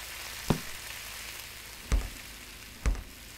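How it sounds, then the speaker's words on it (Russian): Food frying in a pan in the Cooking Simulator video game: a steady, quiet sizzling hiss runs throughout, broken by three soft thumps spaced about a second apart. "И теперь это все дело отправляю на сковородку."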